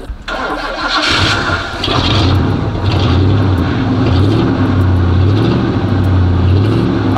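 An Oldsmobile Cutlass engine catches after about a second and settles into a loud, close, steady idle with a low, rhythmic, slightly uneven throb.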